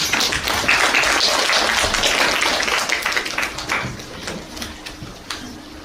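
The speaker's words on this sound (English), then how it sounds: "Please give her applause" An audience applauds a student speaker at a university English department showcase event, a dense, steady burst of many hands clapping that slowly thins out toward the end, with no talk over it.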